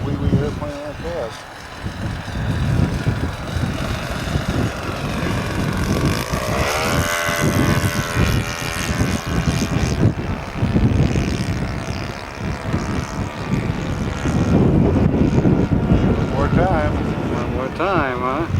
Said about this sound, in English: this is a trick in this wind with a little wee airplane like that